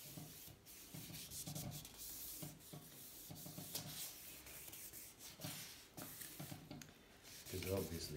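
Sandpaper rubbed by hand over a vintage Atala bike frame, a steady scratchy back-and-forth rasp in uneven strokes, close and moderately loud with brief pauses between passes.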